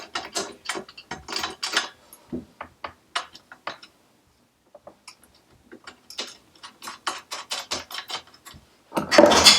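A ratchet clicks rapidly in bursts while wheel locks are tightened on a Clarke CML5 lathe. The clicking is close and loud, with a short pause in the middle and a heavier clatter at the end.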